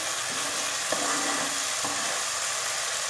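Chicken simmers in its own spice water in a pan over lowered gas heat, giving a dense, even close sizzle and bubbling hiss with a couple of faint knocks.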